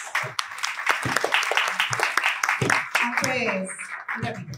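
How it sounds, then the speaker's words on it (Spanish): Strong applause at a book presentation, uneven bursts of clapping from a gathered audience, with voices and cheers mixed in throughout. "Vamos a despedir Bueno. con un fuerte aplauso aquí a estas dos grandes mujeres"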